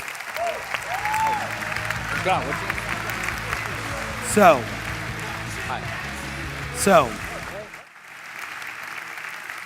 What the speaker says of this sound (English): Can we give Patrick a big round of applause?